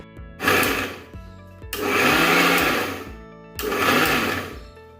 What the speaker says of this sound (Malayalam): അതിന് നമ്മൾ മിക്സിയിൽ ജസ്റ്റ് ബ്രെഡ് ഒന്ന് അടിച്ചെടുക്കുക.